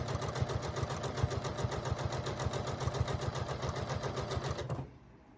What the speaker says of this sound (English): So I'm just going to sew it 1/4 of an inch all the way down.